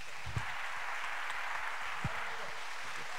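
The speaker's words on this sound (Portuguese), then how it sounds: "Vamos bater uma salva de palmas." A church congregation claps during a morning worship service, a steady wash of applause held throughout at moderate distance, with no voices standing out.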